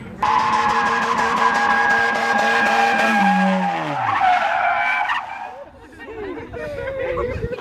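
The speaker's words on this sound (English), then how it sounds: "The turbo do sound good" A turbocharged car engine revs and pulls hard with a falling pitch sweep mid-cruise on the way to Malibu, tires briefly squealing, while people talk and exclaim over the top.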